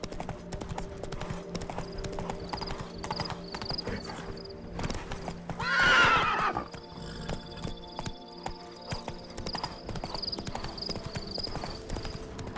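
Roach, the horse in The Witcher 3: Wild Hunt's Blood and Wine expansion, gallops with a brisk, continuous clip-clop of hooves, a short whinny-like swell in the middle, and steady game ambience around it.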